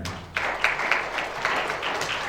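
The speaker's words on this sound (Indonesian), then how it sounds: "Beri tepuk tangan." A congregation at a church service breaks into applause, starting abruptly after a short lead-in and continuing as a lively, full burst of many hands clapping together.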